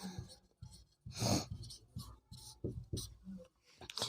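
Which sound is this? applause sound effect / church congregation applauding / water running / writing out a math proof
writing out a math proof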